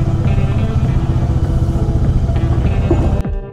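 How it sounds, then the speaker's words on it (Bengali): Motorcycles idling and revving up close in front of a hotel in Siliguri, a steady loud engine drone with rumbling low throb that cuts off abruptly near the end. "ফাইনালি শিলিগুড়িতে আমাদের হোটেলের সামনে বাইক ফাইকগুলো পার্ক করি।"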